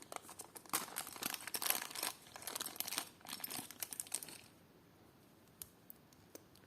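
Plastic packet crinkling and rustling as a small bag from a parcel of vintage jewelry is opened, busy close handling for several seconds, then settling into near quiet with a couple of faint clicks.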